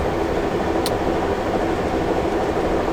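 Steady, loud rumble and rush aboard a moving Amtrak Lake Shore Limited passenger train, a continuous broadband roar with a brief high click near the start and no voices.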